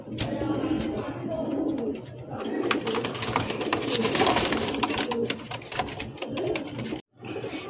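Colouring Golla pigeons coo softly at close range in a loft, with repeated low throaty calls over rustling and clicking movement, and a short drop to near silence near the end.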